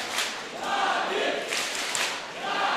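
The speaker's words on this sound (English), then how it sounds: "The crowd is definitely enjoying this." A Counter-Strike LAN crowd at a StarSeries match cheers in swelling waves, distant and fairly faint, with bursts rising and falling over a few seconds.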